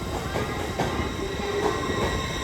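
A Class 801 train departs Newcastle, rumbling past with a steady mechanical roar, faint wheel squeals and rhythmic clicks over the rails.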